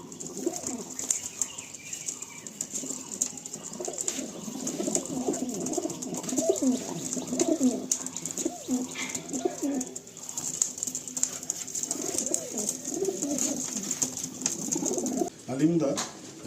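Pigeons coo over and over in a loft in Behala, with some wing flapping. The murmuring calls go on without a break under a steady high background hiss, and speech-like voices may be mixed in.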